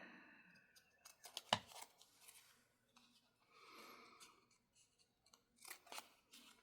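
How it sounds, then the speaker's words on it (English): Quiet snipping of scissors, a few sharp clicks and short cutting runs spaced unevenly, with rustling in between and no speech. "So let's get my scissors here."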